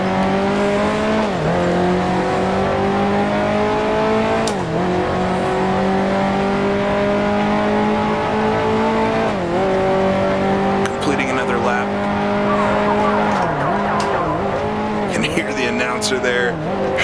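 A pack of 1955 Formula One cars in Grand Prix Legends howls past, each engine note sweeping upward and dipping as the cars shift gears, loud and continuous, with a commentator talking over it.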